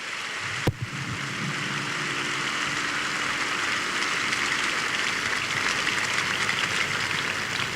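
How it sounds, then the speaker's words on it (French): A church congregation applauding for the Lord, a sustained wash of dense clapping from a large gathering that follows a sharp thump and holds steady, loud and even throughout. "acclamons pour l'Éternel."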